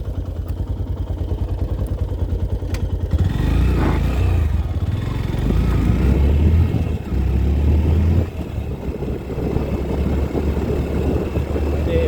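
A motorcycle engine runs close by with a steady low throb, its rumble swelling and roughening a few seconds in, then holding at a busy, uneven idle.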